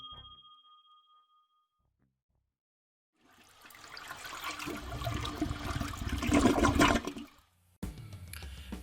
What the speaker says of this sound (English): Let's see how many flushes it takes to get those posterior Pop-Tarts to go down.